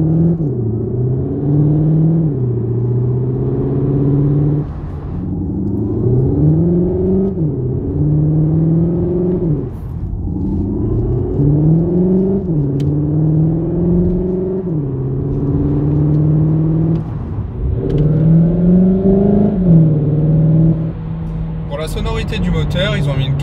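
Engine of a 2021 Cupra Leon hybrid, with a resonance chamber in the bonnet amplifying its note: it accelerates hard through several gears, each time rising in pitch, then dropping at the shift, loud and sustained.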